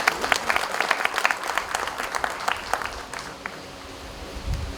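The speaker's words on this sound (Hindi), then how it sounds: "ताली हो जाए हमारे बच्चे।" Applause from an audience at a gathering of the Uttarakhand Purvsainik Kalyan Nigam, a dense, loud burst of clapping that fades out toward the end.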